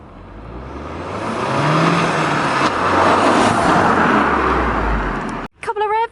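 A Volkswagen MK7 Golf GTI engine revs loudly and close for about five seconds, a dense roaring surge with deep exhaust rumble, then cuts off sharply and a voice speaks briefly.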